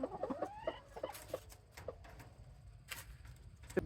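Chickens, including a rooster, cluck in short, clustered bursts, with a couple of higher calls near the end, over a noisy outdoor background on a homestead.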